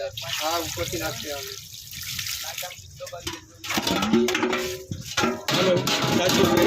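Water poured from above over freshly curdled milk while making paneer at home, a loud continuous splashing wash running the whole time beneath people talking.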